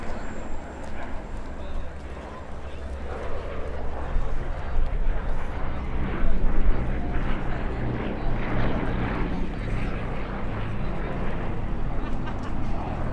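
A Bristol Blenheim 1F with twin Bristol Mercury radial engines flies past at Duxford, its steady, loud propeller drone filling the air throughout.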